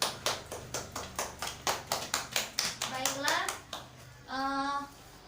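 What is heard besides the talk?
children clapping for a classmate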